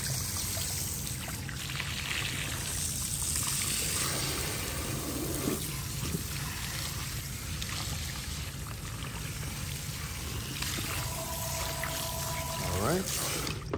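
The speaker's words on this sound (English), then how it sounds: "Place the other hand here and rinse." Water pours and trickles steadily while shampoo is rinsed out of hair during a head-massage wash, a continuous close stream with a brief higher tone near the end.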